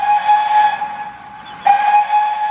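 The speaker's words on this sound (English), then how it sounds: "Spencer whistled long and hard." Spencer, a steam engine, gives a long, steady, shrill whistle that holds, breaks off briefly, then sounds again loud and close, with a hiss of steam around it.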